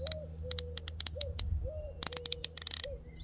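Pigeon cooing, a repeated soft hooting call heard several times in a steady rhythm amid clicky ticking sounds and low background hum, fairly close.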